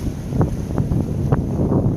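Aboard an O'Day 272 sailboat on the Pacific Ocean on a bumpy day, steady wind buffets the microphone while waves slap irregularly against the hull up close.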